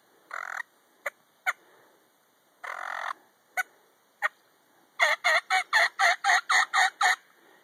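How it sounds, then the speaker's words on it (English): Wild turkey gobbler calling during a spring turkey hunt in Curlew, Washington: loud, close gobbles in separate bursts, then a rapid run of about nine quick calls, with no talking. "That's the gobbler, dude."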